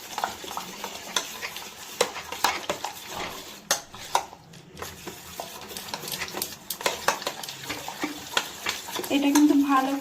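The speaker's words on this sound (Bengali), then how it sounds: "আমি এই জন্য ভালো করে ফেটে নিচ্ছি।" Jaggery cake batter with oil being beaten in a bowl for a Christmas cake, a steady run of quick clinking, scraping strokes close by, fairly soft, with no talk.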